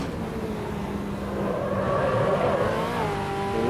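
Fiat Uno race car engine in the Automobilista 2 racing game, held at steady high revs with a droning, slightly rising tone that stays constant and moderately loud throughout, with no talking.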